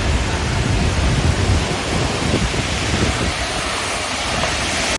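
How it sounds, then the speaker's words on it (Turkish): Heavy rainstorm in Kocaeli, Turkey, with dense rain pouring in a loud, steady roar and low rumbling underneath, continuous until it cuts off abruptly at the end. "Kocaeli'de şiddetli yağış tüm ilçelerde etkisini sürdürüyor."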